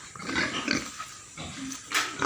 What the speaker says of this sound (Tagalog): ito na yung apat na baboy namin oh malalaki na yung 1 month na to